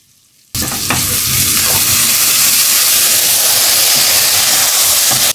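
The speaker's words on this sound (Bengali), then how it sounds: "ভালো করে একটু ভেজে নিচ্ছি।" Vegetables and sliced green chili hit a hot pan with a sudden loud sizzle that then holds as a dense, steady roar of frying and stirring.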